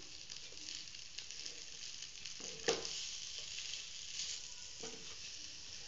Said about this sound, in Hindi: थोड़ा भून लेंगे